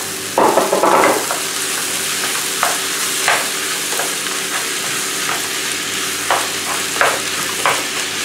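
Escalopes frying in a pan for nasi goreng over medium heat, a steady sizzle with a louder hiss as the meat goes in, followed by scattered scraping and stirring sounds.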